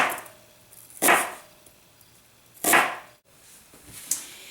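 A knife chops through medium-sized onions on a board, making three spaced crisp cuts with quiet pauses between them.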